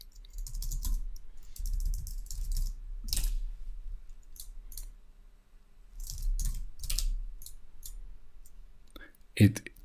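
A password is typed on a computer keyboard in short bursts of soft, close clicks separated by pauses, with a louder clack near the end and faint background sound.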